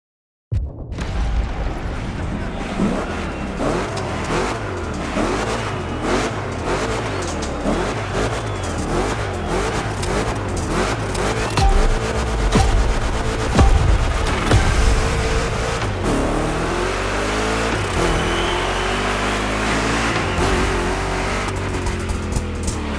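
A Chevy 3100 big block engine in The Crew Motorfest racing game revs and roars continuously, with rising and falling pitch sweeps as it accelerates through turns, loud throughout.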